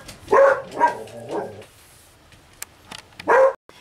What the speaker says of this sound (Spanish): Perdón por los ladridos de mi perra